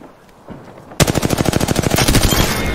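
Automatic weapon fire in the Apex Legends video game: after a second of near quiet, a loud, rapid stream of close shots runs continuously to the end, with no talking.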